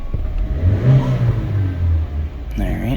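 A 2020 Chevrolet Malibu 1.5L engine with a random misfire revs up during a crankshaft variation relearn, rising and falling for a few seconds and then climbing sharply at the end, loud and close.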